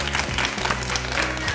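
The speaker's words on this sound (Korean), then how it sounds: "박수 쳐야죠" An audience applauds after a card trick, a dense burst of clapping that fills the space, with a voice running underneath it.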